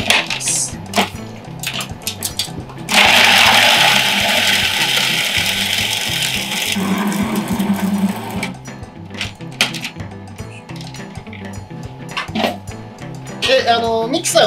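A loud whirring blender runs steadily for several seconds, mixing ingredients for datemaki rolled omelette with sugar, mirin and salt, with a voice talking over and around it.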